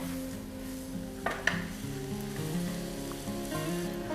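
Vegetables for hot and sour chicken soup cooking in a pan after chili sauce, salt and ground pepper go in, a gentle sizzle with a couple of sharp utensil clinks as everything is mixed, quiet and without speech.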